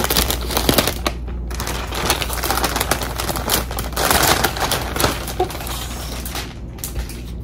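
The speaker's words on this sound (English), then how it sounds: "So let me take out the plastic as usual." Plastic wrapping crinkled and pulled off a Phalaenopsis orchid bought at a grocery store: a continuous, close rustling and crackling with sharp snaps and tearing bursts, no talking.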